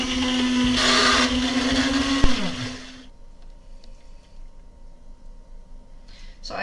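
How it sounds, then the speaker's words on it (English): A blender blending sauce for mussels marinière whirs loudly for about three seconds, its motor pitch shifting as it runs, then stops, leaving quiet room noise and faint clatter. "So I'm going to blend it with the blender."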